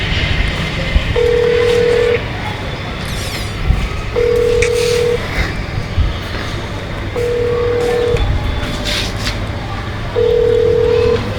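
Phone ringback tone repeating steadily, a clear steady beep roughly a second long followed by a pause, four times over faint background noise.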